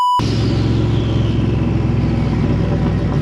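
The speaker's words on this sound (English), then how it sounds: "It is just spinning the tires." A 600 hp turbocharged Lincoln running nitrous spins its tires on a closed course, a loud continuous engine roar with deep rumble and tire noise throughout, close and steady.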